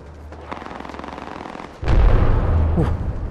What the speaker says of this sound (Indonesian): Tembakan guys